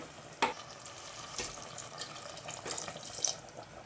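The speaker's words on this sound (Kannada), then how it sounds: "ಸ್ವಲ್ಪ ನೀರು ಸೇರಿಸ್ಕೊತೀನಿ" Water splashes into a pot of village-style raw peanut masala sambar in a few short pours against a quiet background, with soft sizzling between them and no talking.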